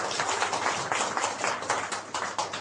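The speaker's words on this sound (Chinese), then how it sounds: "我们掌声谢谢四位" A seminar audience at an etiquette lecture claps to thank four volunteers, producing dense, brisk applause that stays fairly even throughout the short burst.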